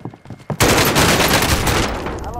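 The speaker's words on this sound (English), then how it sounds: "a shotgun" Shotgun fire in Call of Duty: Modern Warfare, a loud burst that cuts in abruptly and rings on in a dense, sustained roar of blasts after faint movement sounds.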